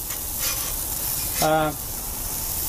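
Thick-sliced applewood bacon on a flat top, a low steady sizzle running throughout, with a brief louder hiss partway, while a voice is briefly heard over it.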